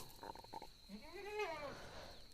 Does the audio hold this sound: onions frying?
no